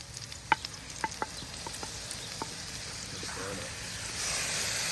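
Tomatoes sizzle quietly in a pan for seafood paella, a soft steady frying hiss broken by a few light taps of a utensil stirring, with the sizzle growing slightly louder toward the end.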